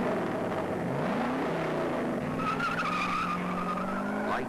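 A Chevelle SS drag car with a 396 cubic inch engine roars off the line, its engine note climbing steadily while tires squeal, loud and close throughout.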